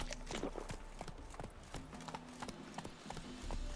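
Horse hooves galloping in The Witcher 3, a steady rapid clip-clop rhythm up close, running continuously over faint ambient game sound.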